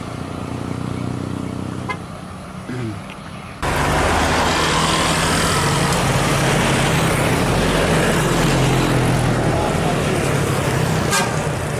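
PO Palala intercity buses pull into Muara Bungo in the morning, a loud horn toot breaking in over road traffic, then a heavy, steady roar of bus engines and passing vehicles close by.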